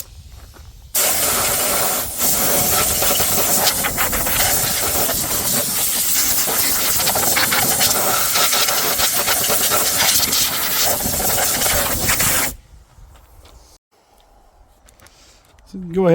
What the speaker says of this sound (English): Blow the rest of that stuff out of there too with the air compressor.